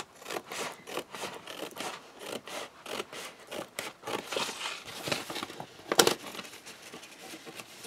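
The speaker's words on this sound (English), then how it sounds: "So now I'm going to cut this piping off." Scissors snip repeatedly through bias tape along the edges of a tote bag, cutting close to the stitching in short, crisp, rhythmic cuts with scraping and rustling of fabric, one louder snip near the end.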